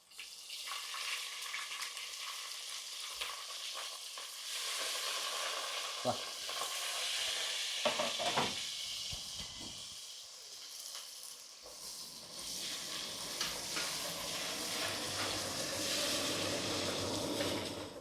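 Onions sizzling and frying in a pan for biryani, a steady loud crackle with occasional stirring scrapes, no talking.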